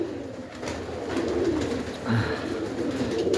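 Soft, low cooing of pigeons murmurs close by, repeated in gentle rounds over a faint background hiss.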